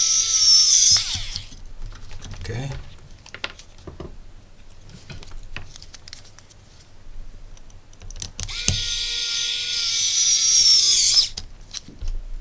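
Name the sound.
electric screwdriver driving screws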